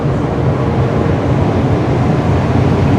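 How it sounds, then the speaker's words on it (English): The engines of the Greek overnight ferry Lefka Ori run with a loud, steady, close-up roar and a deep droning rumble that holds unchanged throughout. "It's going to be a little noisy walking past the engines,"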